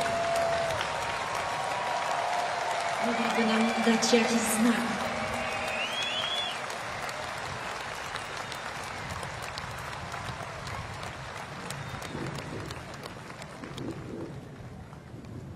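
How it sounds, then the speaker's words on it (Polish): Crowd applause at a Polish Army Day military parade, a broad steady clapping wash that swells early and carries on throughout beneath an announcer speaking over a public address. "Dziękujemy za te brawa."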